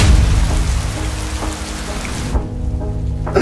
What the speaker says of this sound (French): on conduit sous la pluie